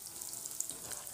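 Coriander leaf pakoras fry in hot oil with a steady, soft, bubbling sizzle that holds at an even level for the whole moment, with no voices over it.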